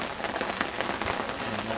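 Steady rain falls throughout, a dense, even patter of drops on a surface with no voices, recorded outdoors at a jumping event day.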